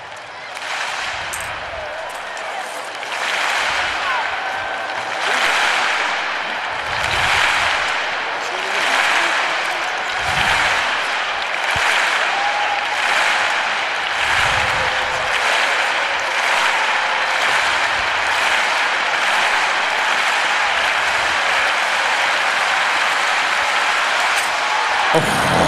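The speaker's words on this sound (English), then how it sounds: "she couldn't have asked Stuart for any better rhythmic clapping than that" Stadium crowd clapping in rhythm for high jumper Blanka Vlasic at the Rome Diamond League meet: loud, massed, pulsing claps swelling across the stands, with a commentator talking over it.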